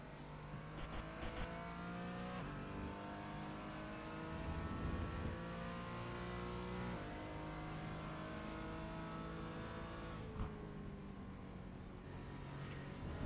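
Porsche Cayman race car running warm-up laps at Silverstone, its engine droning steadily from inside the cabin with rising and falling revs through gear changes, loud and continuous throughout.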